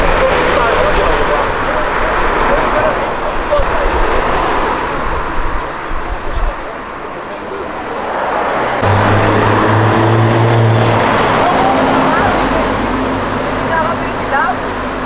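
A Ferrari sports car revs and roars along Avenida Europa amid traffic, a loud rising engine drone that swells and passes near the microphone, with people talking over it.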